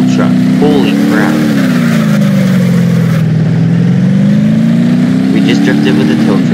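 In the BeamNG drive video game, a tow truck drifts with a loud, continuous engine drone that rises and falls in pitch as the revs shift, close and steady throughout, with a few faint squeaky tones on top.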